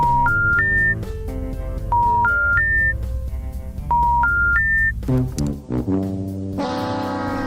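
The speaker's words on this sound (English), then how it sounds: "We've got to give him a quick call here, so we're going to dial him up." A telephone dials out for a live radio show call: three rising electronic tones repeat three times in a steady pattern, followed by a brief jumble of tones and a sustained ringing tone at the end.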